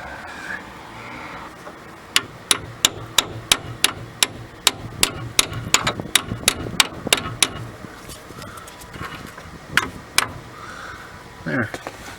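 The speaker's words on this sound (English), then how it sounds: "Now I have a chisel." Hammer striking a chisel to spread open the ball joint clamp on a Ford Windstar during control arm replacement: a quick series of sharp metallic taps in a fast, slightly uneven rhythm, then a few scattered blows, with brief speech near the end.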